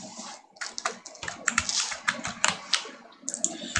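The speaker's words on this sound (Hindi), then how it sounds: "वो नाम आप टाइप करेंगे" Fingers typing a name on a computer keyboard, a quick irregular run of close, sharp key clicks in short bursts with brief pauses between them.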